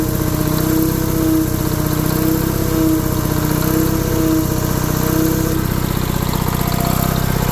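An old Allis Chalmers HD5 crawler tractor, long unserviced, runs at a steady idle with a continuous loud, even diesel chug and no voices throughout.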